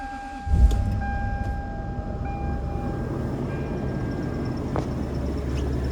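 A Toyota Land Cruiser with a 4.7L 2UZ V8 idles with a steady, smooth low rumble, and a brief thump near the start, heard from nearby without talk.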